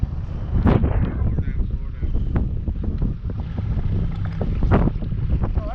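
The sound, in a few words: strong wind on the water while boating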